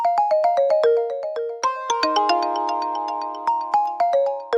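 Little synth plucks in a track, bright bell-like notes picked out in a quick descending figure, then sustained chords with more scattered plucks, clean and close with no voices.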